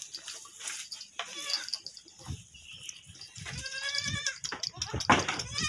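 Goats on an Indonesian livestock farm bleat repeatedly at close range, with several wavering calls overlapping amid pen noise and some splashing water.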